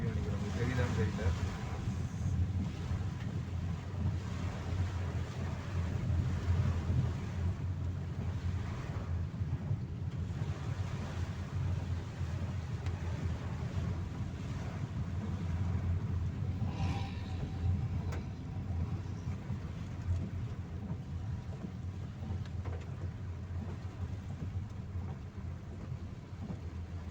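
Storm wind and easing rain at Kundrathur during a cyclone, a steady broadband rush and roar that continues unbroken and fairly loud throughout, with low rumbling gusts.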